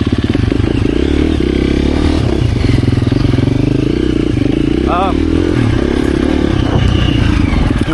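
A 2024 KTM 350 EXC-F dirt bike being ridden off-road, its engine droning loud and close throughout with revs rising and falling, chain and body clatter, and a rider's voice talking over it.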